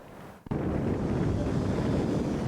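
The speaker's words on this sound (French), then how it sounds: "Un bruit incessant de ces vagues en furie dépose ou emporte des sédiments." Furious waves on the West African coast of Togo, a continuous loud roar of surf and wind that surges in after a brief quieter moment and then holds steady.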